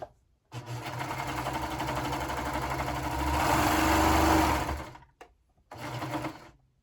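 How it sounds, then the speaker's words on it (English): A sewing machine stitching a sleeve band runs in a long, steady whir, speeding up briefly and then stopping. A short pause follows before another brief burst of stitching, all close and without talk. "I still had my band in here, so I'm just going to continue on sewing."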